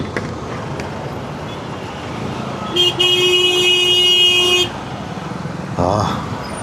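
Busy road traffic rumbles throughout while a car horn blares in a long sustained honk, followed near the end by a shorter toot, with some voices in the background.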